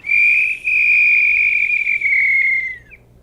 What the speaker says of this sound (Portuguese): desse apito erótico, dessa série de apitos eróticos que o Celestino faz